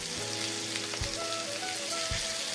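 Lamb searing in olive oil in a pan over medium heat, a steady bright sizzle with crackling spatter and a couple of dull thumps as pieces are placed.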